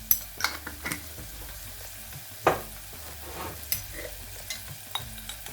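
Cumin and coriander seeds frying in a pan for chicken tikka masala, with spoon-stirring scrapes and clicks over a low steady sizzle, close and moderately loud, no voices.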